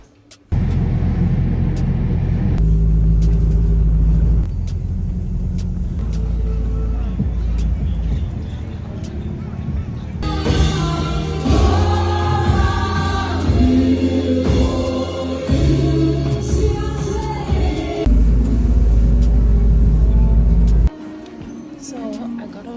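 A bus ride on a city route, with a low engine rumble and road noise that swells and eases as it drives. Voices talk over the ride in the middle section.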